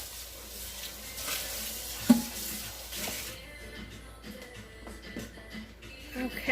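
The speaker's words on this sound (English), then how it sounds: "Rinse out the pot." Water running and splashing as a cooking pot is rinsed out, a hissing rush for a few seconds with a clunk, then quieter dribbles and knocks of the pot close by, without talk.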